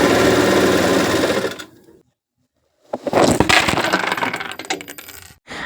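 A sewing machine runs loud and close in a rapid mechanical chatter, cuts out into silence, then a phone shaken off by the machine's vibration clatters to the floor amid renewed rattling and knocks.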